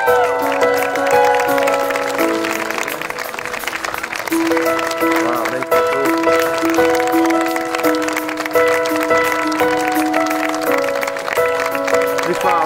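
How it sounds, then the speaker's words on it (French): A crowd applauds a runner at a Relais pour la Vie 2016 charity relay. Steady clapping runs throughout, mixed under sustained music and a voice on a loudspeaker. "Mesdames et messieurs, on va leur donner une bonne main d'applaudissement"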